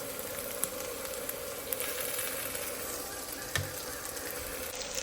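Sliced onion frying in a pan with ginger garlic paste stirred in, giving a steady, close sizzle throughout with a few soft stirring knocks.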